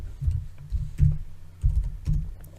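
Keys clack on a computer keyboard as a command is typed, a handful of soft, dull thumps in uneven rhythm, close and alone.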